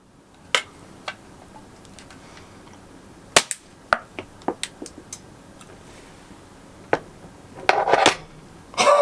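An airsoft Glock pistol fires BBs in sharp, separate cracks, a few spaced single shots then a quicker burst near the end, close and loud over a quiet room.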